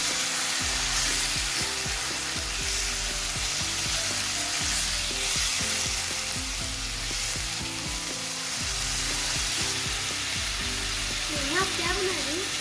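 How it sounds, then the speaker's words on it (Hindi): Potatoes fry in a pan for a Spanish cheese omelette, giving a steady, close sizzle with bubbling crackle and occasional stirring scrapes, no voices over it. "हम इसमें शामिल कर देंगे आलू, और आलू शामिल करने के बाद हम इसको थोड़ी देर करेंगे फ्राई"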